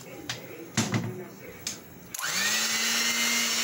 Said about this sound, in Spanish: Le echamos más agua para que la batidora pueda agarrarla